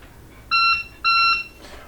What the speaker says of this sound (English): You will hear an alarm sound.